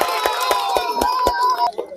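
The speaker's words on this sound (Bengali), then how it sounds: "জোরে করে হাততালি হবে" Sharp, regular clapping from an audience at a blindfolded balloon-popping game, about seven claps over two seconds, mixed with a steady crowd murmur and raised voices.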